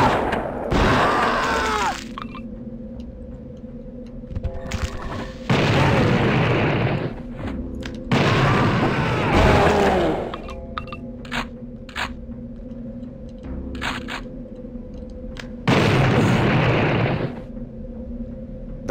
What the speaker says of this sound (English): That was my own proximity bomb.